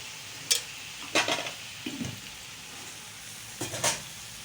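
Tomatoes and masala fry in a pan while chicken tikka biryani is cooked, with a soft, steady sizzle and several sharp scrapes of stirring at close range.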